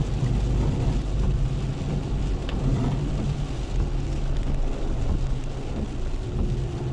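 Heavy rain pelts a car on a dark road in Cavite, a dense steady hiss of drops on the body and glass over a low engine and cabin rumble, continuous with no talk.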